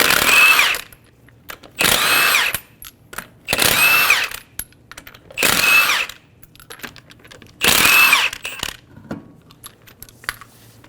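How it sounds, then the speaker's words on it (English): Power tool with a 21mm socket spinning off lug nuts on a 2007-2011 Toyota Camry, five loud whirring bursts of about a second each, separated by short quiet gaps with faint clinks. "Using a 21mm socket, remove the 5 lug nuts"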